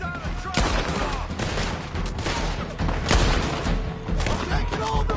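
Dense gunfire in the video game Red Dead Redemption 2 forms a rapid, overlapping volley of close shots and booms, with shouting voices partly buried beneath it.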